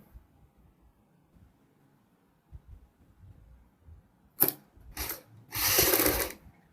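A sewing machine stitches along the neckline of a kurti in a few short bursts near the end, rising from near silence: two quick runs followed by a longer, steadier whir.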